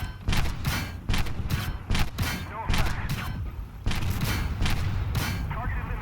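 Repeated bursts of heavy gunfire in a combat video game hammer at an Abrams tank, sharp loud volleys in rapid clusters with short pauses between.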